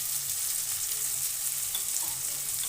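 Kohlrabi pickle with turmeric, red chili powder and salt frying and being stirred in a pan, giving a steady close hiss of sizzling oil with soft scraping stirs throughout.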